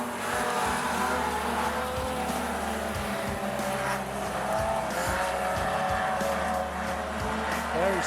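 Race cars roar around the dirt oval at Rockhampton Speedway during a fender benders event, engines droning continuously with passing surges and tire noise, while a commentator's voice is faintly audible.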